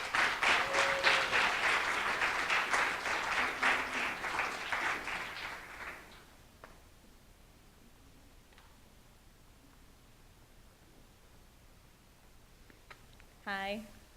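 An audience at a New York poetry festival applauding to welcome poet Amanda Waters to the stage: steady, full clapping for about six seconds that then fades to a quiet room with light rustles, followed by a brief sound at the end.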